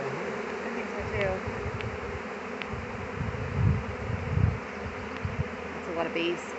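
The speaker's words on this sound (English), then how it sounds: "That's a lot of bees." A huge swarm of honey bees shaken from a branch onto a sheet, a dense continuous buzzing drone close by, with faint voices and brief knocks underneath.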